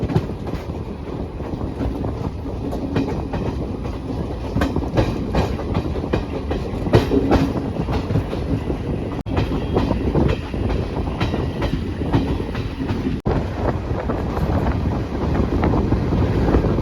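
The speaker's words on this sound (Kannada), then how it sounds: "Train Sangli railway station ಬಂತೀಗ." Maharashtra Express train arriving at Sangli railway station, a continuous heavy rumble of rolling wheels and rattling carriages with buffeting wind noise and occasional sharp clanks, no talking.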